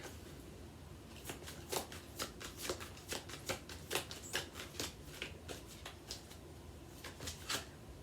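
Angels of Atlantis oracle card deck shuffled by hand, a series of soft riffling flutters and taps in irregular bursts, close and fairly quiet with no talking.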